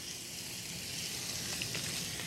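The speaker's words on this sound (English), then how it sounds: "We're going to add a little bit of olive oil in the frying pan." Olive oil sizzles and hisses steadily in a hot frying pan, a soft, even crackle with a few faint pops, heard up close.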